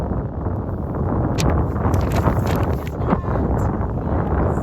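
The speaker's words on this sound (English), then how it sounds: "Let's see if the wind doesn't completely blow this away from me." Steady outdoor wind buffeting a microphone, a continuous low rumble with gusts rising and falling throughout, no one talking.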